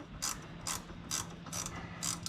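A ratchet wrench tightens a nut on a Toyota FJ Cruiser rear suspension lift, five evenly spaced, close rasping clicks with no talking.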